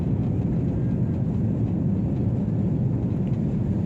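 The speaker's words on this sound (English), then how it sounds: "So let's do a takeoff for first time in my life." Airplane taking off at night, heard from inside the cabin as a steady, loud, low rumbling roar of engines and rolling, with no talking.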